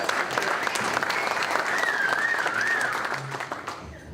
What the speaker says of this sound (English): That's why you're clapping.